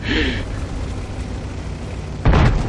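A World of Tanks cannon shot, fired from a T44-100, lands as one loud booming blast near the end after a stretch of quieter in-game ambience and a short beep.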